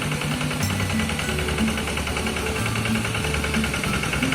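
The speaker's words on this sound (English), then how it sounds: "The tractor moved slowly but surely, turning the previously compacted soil into loose soil ready for replanting." A farm tractor plows a wet, irrigated rice field ahead of rice planting, its engine running steadily close by with a rumbling, slightly knocking tone and even throb throughout, no voices.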